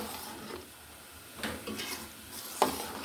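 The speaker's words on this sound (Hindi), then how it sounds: "थोड़ी सी देर इसको भून लेंगे एक दफ़ा फिर" Chickpea paste frying in a pan for a curry, with a soft steady sizzle broken by a few clinks and scrapes of a spoon stirring against the metal.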